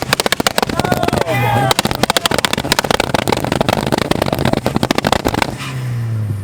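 Car launch limiter at a 2021 car meet firing rapid, very loud exhaust pops and bangs in a crackling burst, with engine drone between, crowd noise and voices around it.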